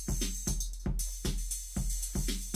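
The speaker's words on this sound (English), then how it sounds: "If I was to play you this element through the actual drum machine itself" A drum machine pattern with a heavy filter, played as a single element straight from the machine: a loud, steady loop of punchy low hits about every half second with bright, filtered tops over a constant low drone.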